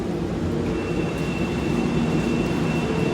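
MRT metro train at Cubao Station in Manila, a loud continuous low rumble and rolling hum of the railcars, steady throughout with no talking.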